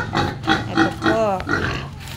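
Sows grunting and oinking in a pen, a run of close, rhythmic snorts and calls about every third of a second, ending in one longer squealing grunt.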